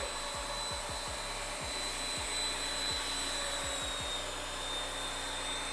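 A Narwal S10 Pro robot vacuum runs in its low angle cleaning mode, giving a steady faint motor whir with soft irregular bumps and clicks underneath.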